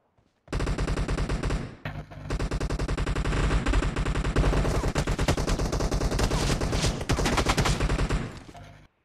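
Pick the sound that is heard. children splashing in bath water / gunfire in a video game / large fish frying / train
gunfire in a video game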